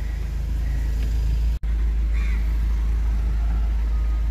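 Family car driven by the daughter along an empty early-morning road on a trip to Hyderabad, with a steady low engine and road rumble throughout and one brief dropout near the middle.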